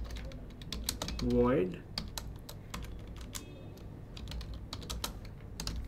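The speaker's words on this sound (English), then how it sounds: "now let me just type in public" Keys clatter on a computer keyboard as code is typed for a Selenium test case in Java, a steady run of close, crisp taps that carries on beneath a man's brief spoken word.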